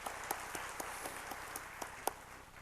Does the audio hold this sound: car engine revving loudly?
no